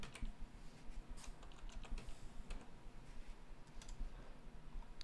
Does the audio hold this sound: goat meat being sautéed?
no